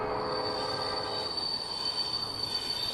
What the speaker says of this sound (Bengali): একটা ট্রেন দেখলাম ধোঁয়াশা ফুঁড়ে স্টেশনের দিকে এগিয়ে আসছে